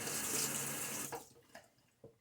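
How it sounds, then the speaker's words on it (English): Tap water rushes loudly into a sink while rinsing during a wet shave, then stops abruptly and is followed by a few scattered drips and splashes. "A little rinsing."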